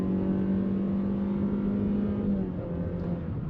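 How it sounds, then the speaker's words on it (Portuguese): A naturally aspirated Honda HR-V SUV launching from standstill, its engine droning loud and steady as revs climb, then dipping briefly near the end with an upshift. "Vamos fazer aqui a nossa largadinha estolada, acelerando e saindo."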